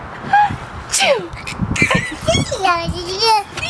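A young child's playful mock sneezes, a voice imitating a sneeze with a sharp 'choo'-like burst amid excited squeals and chatter, close and loud.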